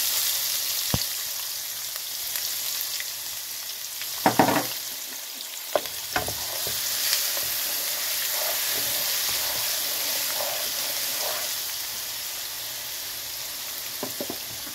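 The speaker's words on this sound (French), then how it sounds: "Maintenant que l'huile est chaude, je vais ajouter l'oignon découpé avec l'ail découpé." Chopped onion and garlic frying in hot oil, a steady close sizzle with occasional clinks and stirring scrapes of a utensil against the pot, continuing without talk.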